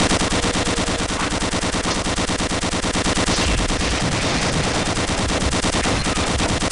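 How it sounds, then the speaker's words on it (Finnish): Sustained, dense automatic gunfire from the video game Gunman Chronicles, loud rapid bursts running without a break for nearly seven seconds. "Niin, mitä sä ammut oikein?"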